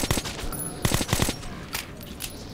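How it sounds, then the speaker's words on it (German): Gunfire in the video game Metro 2033 Redux, fought in a library: a few sharp shots in quick bursts, fairly close, with a clatter of reports spread over a couple of seconds and no talk. "Ich höre auf jeden Fall Schüsse."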